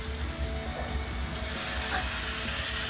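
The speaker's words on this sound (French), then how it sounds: "le robot entame une séquence de rinçage des gobelets trayeurs et de désinfection à la vapeur" A milking robot rinses its teat cups and steam-disinfects them with a steady, broad hiss of spraying steam and water that swells slightly toward the end, close by and with no voices.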